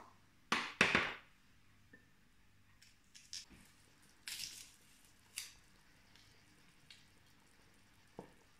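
Garlic preparation made with soaked garlic cloves being worked by hand: a few soft, wet squelching bursts, the loudest near the start, then lighter squishes and taps scattered through an otherwise quiet kitchen.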